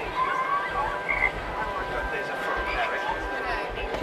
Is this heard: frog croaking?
yes